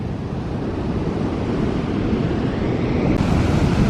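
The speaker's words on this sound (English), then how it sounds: "the water is definitely on the rough side with this wind" Rough ocean surf pounds the shore at Myrtle Beach under strong wind, a loud continuous roar of waves with heavy wind buffeting the microphone and no talking.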